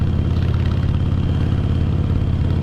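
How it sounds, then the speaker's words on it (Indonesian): Harley-Davidson motorcycle fitted with a Vance & Hines aftermarket exhaust, a loud, close, steady low rumble with a throbbing idle-like pulse and no speech. "Kebetulan yang ini udah diganti Vance & Hines aftermarket exhaust, jadi lebih kencang lagi suaranya."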